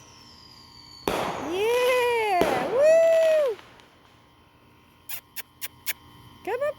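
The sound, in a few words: fireworks going off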